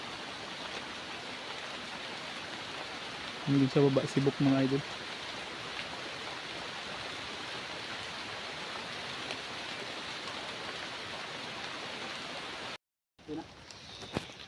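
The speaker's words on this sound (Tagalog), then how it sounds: "Nabutan tayo ng ulan mga idol sa taas." Steady rain falls in a forest high up in the trees, a constant hiss through most of the stretch, with a short burst of talk early on and a brief drop-out near the end.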